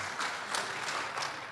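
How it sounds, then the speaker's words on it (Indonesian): An audience applauds in a brief burst, a steady mass of clapping with a few sharper claps standing out. "Luar biasa, tepuk tangan dulu ya."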